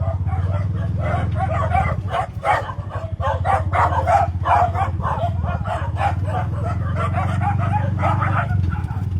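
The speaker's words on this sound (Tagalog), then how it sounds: "Daming aso dito." Several dogs bark continuously and overlapping, a dense chorus of yaps and woofs nearby over a low steady rumble.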